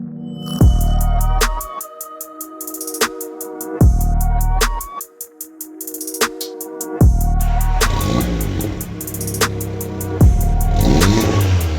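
A VW Golf GTI Clubsport with a hybrid turbo revs on a dyno. The engine note sweeps up loudly several times and drops back between pulls, then rises again to higher, sustained revs.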